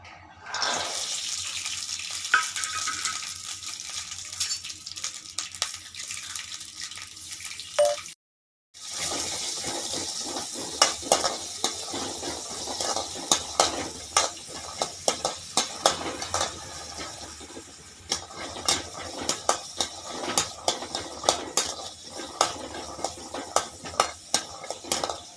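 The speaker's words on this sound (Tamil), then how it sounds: "இன்னொரு கடாயில் சுண்டக்காய் வதக்கலாங்க." Turkey berries (sundakkai) sautéing in hot oil in a kadai for chutney, heard as a steady close sizzle with frequent scraping and stirring clicks of a spoon against the pan, with a brief pause near the start.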